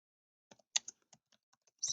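Sparse keystrokes tap on a computer keyboard, a handful of quiet, close clicks spaced irregularly over a couple of seconds with silence in between.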